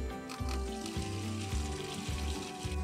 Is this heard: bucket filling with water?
yes